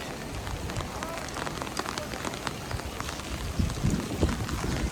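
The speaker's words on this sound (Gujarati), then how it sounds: "ટાઢો બોળ પવન આવે છે ને વરસાદ હારો પડી ગયો" Heavy monsoon rain pours steadily over open farm fields in a cold, gusty wind, a dense and constant hiss with scattered drops hitting close by, and no voices.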